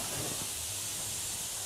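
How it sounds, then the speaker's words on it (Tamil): Cooking oil poured into a pan heating on a stove, giving a steady soft hiss with a faint low hum beneath, continuous and close with no talking. "இப்போ அதில் கொஞ்சம் எண்ணெய் ஊற்றிக்கலாங்க."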